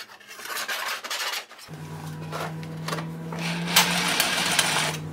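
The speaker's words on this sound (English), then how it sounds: "Small hole, easy to drill." A power drill bores small holes in a cheap galvanized metal strip, a steady whirring drone with scraping, grinding bursts over a few seconds, close by and without speech.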